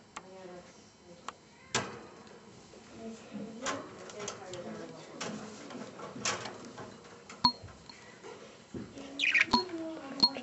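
A pet bird chirps and squawks at close range in a series of scattered short calls and clicks, with some sharper, louder bursts near the end.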